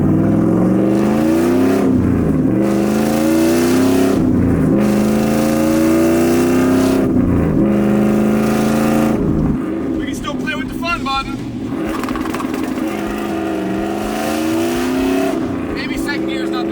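LS1-powered Silverado truck with a T56 manual gearbox revving repeatedly against a 2-step launch limiter, loud close engine bursts rising and dropping in a steady rhythm, with harsher popping toward the end.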